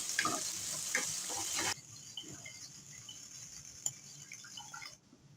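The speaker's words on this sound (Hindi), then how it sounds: "ये डालकर हमने अच्छी तरह से इन सब चीज़ों को फ्राई करना है।" Minced garlic and ginger frying in a hot pan, a dense sizzle that runs steadily for under two seconds and then drops to a quieter crackle with scattered pops and faint stirring, close up and with no voices.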